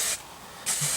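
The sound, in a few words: hairspray being sprayed on hair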